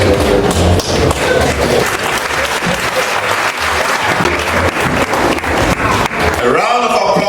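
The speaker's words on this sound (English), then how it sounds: "A round of applause for Dr. Roberts." Loud, sustained audience applause fills a banquet hall at a 30th anniversary dinner dance, dense clapping running steadily throughout and fading near the end.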